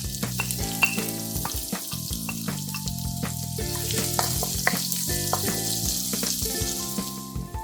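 Green chilli and ginger fry in hot oil in a pan with a steady, dense sizzle and occasional stirring, while music plays underneath throughout.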